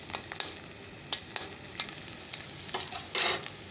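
Onion frying in a pan with leafy greens, a faint sizzle under a few scraping stirs, with one louder stir toward the end.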